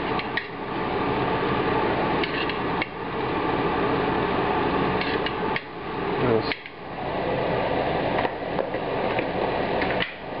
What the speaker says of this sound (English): Now I'm going to add in the meat, the turkey, and the bacon that was cooked earlier